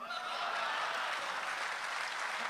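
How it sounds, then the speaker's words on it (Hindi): A mushaira poetry recital audience in Dubai gives a steady, full burst of applause, a dense hiss of many hands at even loudness throughout, with a faint voice blending in beneath it. "एक बार जोरदार तालियों से तहजीब हाफी का स्वागत कीजिए, और जोरदार तालियों के साथ।"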